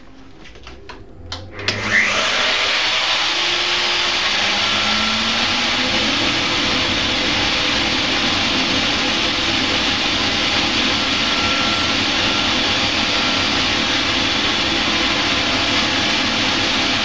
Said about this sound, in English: I'm going to trim off using the bearing cutter